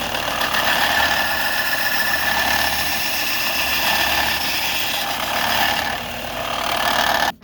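A sander grinds a throwing knife blade with a continuous loud whirring drone that holds steady for about seven seconds, dips briefly, then stops abruptly.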